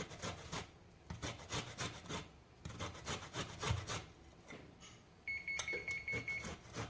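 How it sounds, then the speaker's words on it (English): Lemons are rubbed against a grater for zest for a lemon cake, giving quick rhythmic scraping strokes up close, with a brief beeping tone near the end. "So I have 2 lemons that I'm going to zest with this grater."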